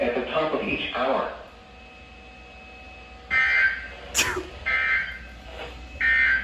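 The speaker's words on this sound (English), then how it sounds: "The warning alarm tone will be activated for hazardous conditions." A weather radio's warning alarm tone sounds during a weekly test, with several radios going off together in long, loud, steady bursts that start and stop. Speech is heard early in the clip.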